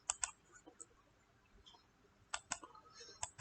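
A few sharp, isolated clicks spaced irregularly over quiet background, some coming in quick pairs, like a mouse button being pressed.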